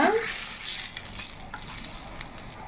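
Fish pieces being gently stirred through a sizzling curry in a pan, with a steady close frying hiss and soft scraping throughout, and no talk.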